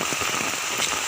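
Rain falls steadily, a close, even hiss of drops hitting surfaces, with no voices.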